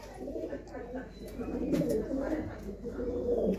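Pigeons for sale at a bird market perched on a blue rooftop, cooing in a steady low warble throughout, with people talking nearby over the birds.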